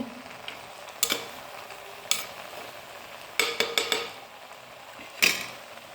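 Grated coconut for aviyal stirred in a pan, heard as a few sharp metallic spoon scrapes and clinks against the pan, sparse and close over a faint steady background.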